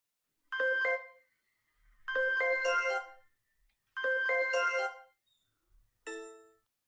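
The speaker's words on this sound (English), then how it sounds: "Lovely chime video game noise. Beautiful, elegant success noise" Elegant chime success tones for an app user interface: three bright, bell-like melodic flourishes, each about a second long with gaps between, then a shorter closing chime, clean and alone.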